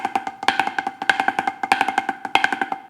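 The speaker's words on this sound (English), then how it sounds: "And maybe your Flam Fives sound like this?" Snare drum playing a flam fives rudiment, a steady stream of crisp, close strokes with periodic louder accented flams, played alone with no talking.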